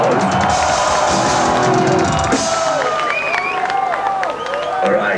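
A concert crowd at a show in Helsinki in 2001 claps and cheers loudly and steadily, with whoops and shouts rising over the dense applause throughout.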